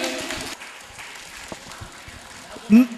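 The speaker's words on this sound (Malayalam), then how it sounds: "കൈയടിച്ചു കൊടുക്കും" A brief burst of audience clapping at a Kudumbashree community gathering fades quickly, leaving a voice speaking over a quiet hall.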